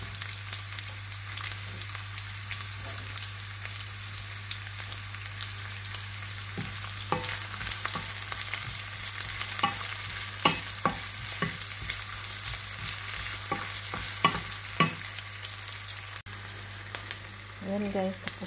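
Garlic and onions sizzle steadily in hot oil for pork trotter adobo, a soft continuous crackle with occasional stirring clinks and scrapes, and faint talk in the background.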